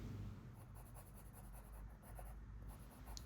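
A pencil sketching fingers on paper, with close, steady scratchy strokes repeating in short bursts, faint and alone.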